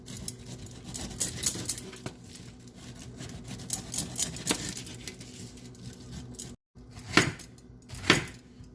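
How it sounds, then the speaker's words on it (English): A knife chops up pineapple for kabob skewers, quick clustered taps and scrapes on a board, then a short pause and two sharper cuts. "Cut up a little pineapple."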